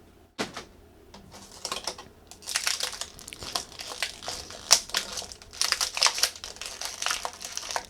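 Plastic packaging tube of a Jada Toys Mega Man figure being cut open, a close, uneven run of crinkling, snipping and crackling plastic with small sharp clicks, heard alone in a quiet room.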